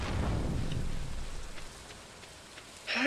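Rain falling in the farming video game Stardew Valley, a soft steady patter that fades lower midway, then a brief sharper burst at the end.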